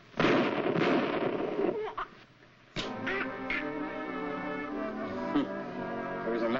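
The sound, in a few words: gunshots in a 1946 crime film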